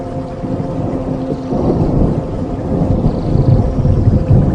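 Low, rolling rumbles build and swell under a dense wash of broadband noise, like thunder with heavy rain, with no voices.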